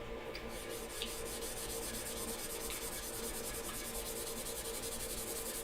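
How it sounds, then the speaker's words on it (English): Hand sanding of titanium knife handle scales makes a quiet, continuous, even rubbing rasp with a steady repetitive stroke from start to finish. "Now he's sanding the dark off."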